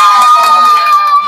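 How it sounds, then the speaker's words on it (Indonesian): Crowd cheering and shouting with children's voices at a Brimob police anniversary demonstration, a steady dense roar of many voices with no clear breaks, loud and close throughout. "Kita berikan tepuk tangan yang meriah"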